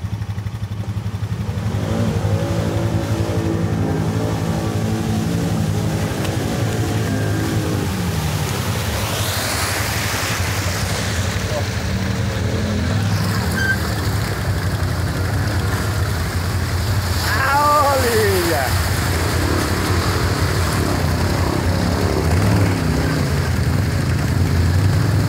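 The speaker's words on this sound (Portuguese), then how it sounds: "Acelera, Zé" Quad bike engines rev and accelerate along a dirt trail near São Pedro, a loud continuous drone with rising and falling pitch sweeps as the machines pass, close by and without talk.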